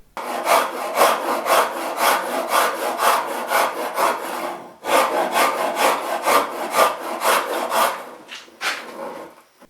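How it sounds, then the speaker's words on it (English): Hand carving of a wooden guitar neck for an ES-335-style build, with a rasp or file scraping the wood in quick, rhythmic back-and-forth strokes. The strokes come in two close, steady runs separated by a short pause, and no one talks. "we're going to start carving the neck"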